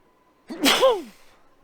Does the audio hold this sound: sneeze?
yes